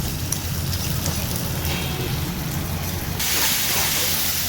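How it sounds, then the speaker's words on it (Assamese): Onions and green chillies with ginger and garlic sizzle steadily in a frying pan, a continuous broadband hiss that swells louder near the end, with low rumbling underneath and no talk. "এতিয়া জলকীয়াখিনি ধুনীয়াকৈ ভাজি লৈ আছোঁ"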